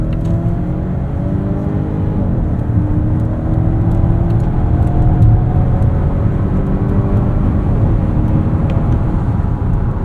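A 2025.5 Volvo XC90 B6 Ultra SUV is driven hard around corners on mostly dry pavement, with a steady low engine drone and road and tyre roar heard from inside the cabin, rising slightly in pitch through the turns.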